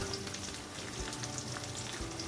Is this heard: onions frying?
yes